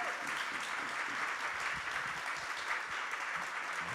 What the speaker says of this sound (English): Let's give our panel a great round of applause